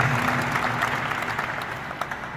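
Applause from the audience at the opening of a FIBA Africa youth basketball training camp in Casablanca, a dense, steady clapping that fills the room at a constant level for a couple of seconds.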